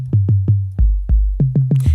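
A deep, sine-like sub bass from the Rob Papen Sub Boom Bass plugin on its default preset plays a short pattern of about eight rounded, booming notes with falling pitch glides, loud and alone.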